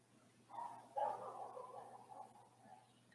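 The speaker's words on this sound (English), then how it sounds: "Can you hear my dogs?" Several dogs bark faintly in the distance, a soft burst of yapping that swells around the middle and trails off against a quiet background hum.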